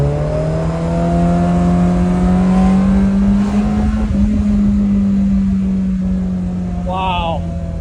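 A manual Ferrari 348 V8 screams close up as it revs hard to around 7,000 RPM in first gear, a steady high engine tone held throughout, with a person briefly talking near the end.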